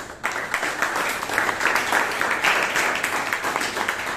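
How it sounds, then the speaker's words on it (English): At a Toastmasters club meeting in Bangalore, the audience breaks into a round of applause for a speaker, a fairly quiet but continuous crowd patter that starts abruptly and carries on evenly. "all of us should give her a round of applause"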